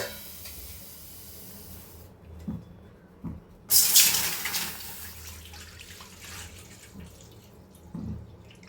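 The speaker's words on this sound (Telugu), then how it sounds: "ఒక స్టవ్ పైన ఒక ప్యాన్ పెట్టేసుకొని దాంట్లో మనం పాలు యాడ్ చేసుకుందాం." Milk poured into a pan on a stove while making rasmalai: a short, bright splashing gush that rises and then tapers off, set against quiet kitchen background with a few soft knocks and no talk.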